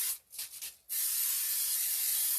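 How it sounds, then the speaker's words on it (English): Cooking spray hisses onto a pie pan, a few short puffs followed by one steady, close spray lasting over a second, with no talk. "So let's spray our pan because it really likes to stick."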